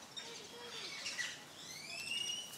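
Birds chirp and whistle at an exotic bird park, with faint thin calls and rising tweets scattered over soft background hiss, fairly distant and quiet.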